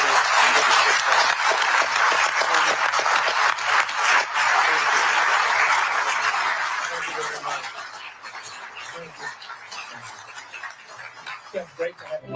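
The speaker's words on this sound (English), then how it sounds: "Would you all say thank you with your applause?" A large audience applauds at a tech keynote on NVIDIA, AI and chips. The dense, loud clapping fills the room at first, then gradually thins and fades to scattered claps.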